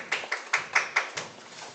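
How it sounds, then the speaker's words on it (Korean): A few scattered hand claps from a small audience welcoming a professor to present at a Wesleyan theology seminar, about six distinct close claps fading out quickly. "우리 뜨거운 박수로 환영하겠습니다"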